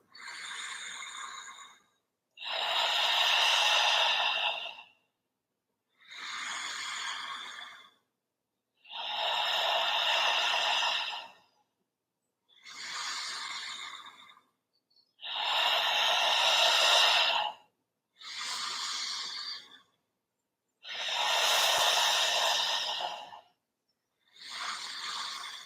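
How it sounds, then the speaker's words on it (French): Slow, steady breathing during a gentle workout: nine audible breaths alternating shorter inhales through the nose with longer, breathier exhales through the mouth, close and evenly paced, with no talking. "On va inspirer avec le nez et souffler avec la bouche."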